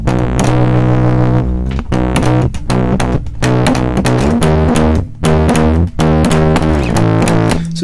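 A Metasonix RK4 tube oscillator and bandpass filter, set with resonance near the dot, input at maximum and output low, roars with a thick, distorted, buzzing tone as its tuning is swept up and down in jerky steps, loud and continuous, with no talking.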